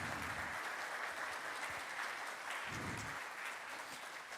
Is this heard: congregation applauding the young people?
yes